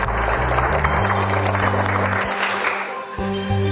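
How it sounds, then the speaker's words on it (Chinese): An audience at a televised cooking show applauds to welcome a host, steady dense clapping under a loud sustained music bed, with no break in the sound. "他嘅用热烈掌声来欢迎你。"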